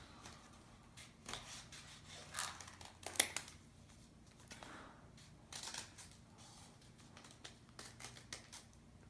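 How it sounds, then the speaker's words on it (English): Scissors snip shapes out of paper, with irregular soft crunching cuts and rustles at a quiet, close distance and short pauses between strokes. "pick up the scissors and cut shapes into the paper"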